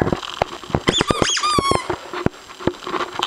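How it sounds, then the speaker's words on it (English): A yellow squeaky dog toy squeals loudly and repeatedly as a dog bites it, a rapid run of sharp squeaks, some drawn out and pitched, close to the listener. "Where's your squeaky toy?"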